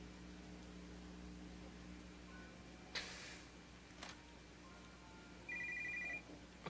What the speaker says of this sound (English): now the phone rings